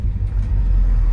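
A 1961 Pontiac Catalina Safari station wagon with a 389 Tri Power V8 idling, a loud, steady low rumble heard close up for just over a second.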